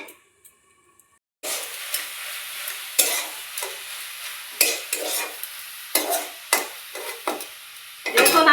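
Bottle gourd with chilies cooks in a pan: after a short near-silent start, a sizzle begins, and repeated scraping strokes of a spoon stirring the vegetables punctuate it in an uneven rhythm, close and fairly loud.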